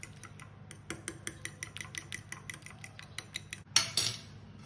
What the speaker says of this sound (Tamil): அப்புறம் பீட் பண்ணிடலாம்.